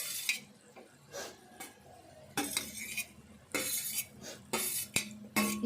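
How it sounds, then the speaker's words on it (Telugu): A spoon scrapes and clinks in a pan as fried carrots are stirred into a tomato curry, with bursts of metallic stirring and faint sizzling coming in uneven waves. "ఈ క్యారెట్ వేసుకొని కలుపుకోవాలి."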